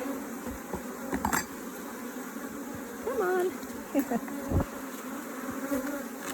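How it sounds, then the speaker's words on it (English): Bees in a top bar hive buzz steadily all around, a constant droning hum, while a person speaks briefly nearby. "There's a lot of bees in this corner."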